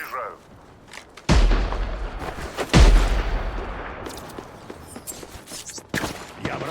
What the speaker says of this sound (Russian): Чего, откуда стреляли?